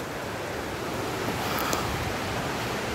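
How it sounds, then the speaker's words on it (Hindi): Water flows steadily near a hidden waterfall in dense Melghat forest, a constant loud broadband rush with no break or variation and no voices. "ये वाटर फ्लो हो रहा है, पानी आ रहा है,"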